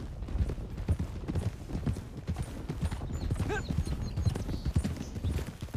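Horse hooves clip-clop steadily on the approach to a stable in the Red Dead Redemption 2 video game, a close, continuous trotting rhythm with a brief horse whinny partway through.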